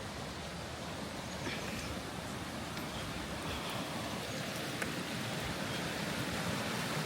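Water pours steadily over a small weir from a canal into a river, a constant broad rushing wash with no breaks, heard alone.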